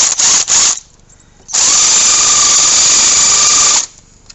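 A power tool tightens a hose clamp on the hose of an oil catch can on a 2020-or-later Ford F150 EcoBoost, with two short bursts and then a sustained loud, close whine of about two seconds before it cuts off.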